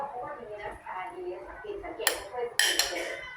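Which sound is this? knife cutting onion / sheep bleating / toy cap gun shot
knife cutting onion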